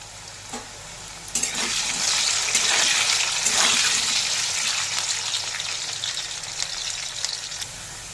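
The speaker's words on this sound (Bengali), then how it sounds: "তেল গরম হয়ে গেলে টুকরো করে রাখা আলুগুলোকে দিয়ে একটু ভেজে নেব।" Potato pieces tipped into hot mustard oil burst into a loud sizzle after a brief quieter moment, then keep frying with a steady crackling hiss that slowly eases, with no talk.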